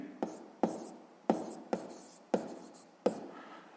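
Pen strokes scratching numbers onto paper while working a sixth-grade math exercise, six short sharp scrapes coming at a steady, unhurried pace, close and quiet with no talking.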